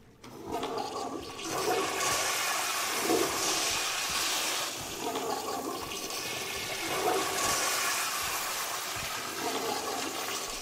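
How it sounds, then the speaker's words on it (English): A toilet flushing in the video game Doom 2016, in a bathroom of a Mars facility: a loud, steady rush and hiss of water that swells and surges for several seconds, alone with no talk. "you can literally flush all of the toilets and the bathrooms"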